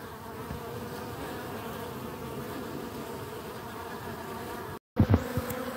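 Honeybees feeding on a litre of sugar syrup drone in a dense, steady buzz close by, broken by a brief dropout and a few louder knocks near the end.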